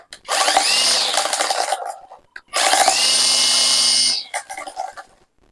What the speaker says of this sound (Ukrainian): Давайте побачимо тепер, як тримір цей буде працювати.